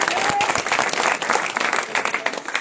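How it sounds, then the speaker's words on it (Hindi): Rally crowd in India clapping loudly to welcome a visiting party spokesperson, close, energetic applause with uneven bursts and crowd murmur, voices faintly mixed in throughout. "आप जोरदार तालियों से उनका स्वागत कीजिए"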